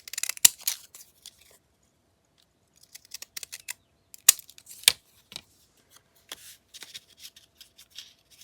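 Scissors snip through paper ephemera from 1955 in short, sparse bursts of crisp cuts and rustling, close up and fairly quiet, with gaps of near silence between clusters of snips.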